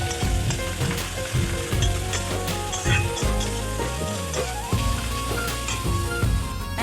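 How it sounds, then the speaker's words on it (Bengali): Chopped onions fry in hot oil in a wok, giving a continuous sizzle that sits under prominent background music, with no talk. "পেঁয়াজগুলো একটু লাল লাল করে ভেজে নেব"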